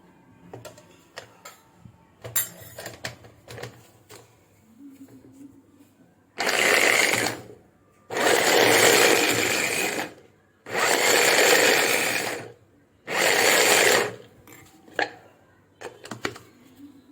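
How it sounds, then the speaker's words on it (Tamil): Beans and carrots chopped together with green chilli for a vegetable soup, first scattered taps, then four long loud bursts of a motorised chopper whirring, each a couple of seconds, with short clicks between. "நம்ம இந்த பீன்ஸும் கேரட்டை மட்டும் இப்போ அந்த பச்சை மிளகோட சேர்த்து சாப் பண்ணிக்கலாம்."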